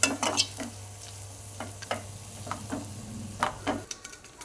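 Shana fish frying in a pan, with repeated stirring scrapes and crackling pops over a steady low hum; the fish sizzles nearby and moderately loud, with no voices.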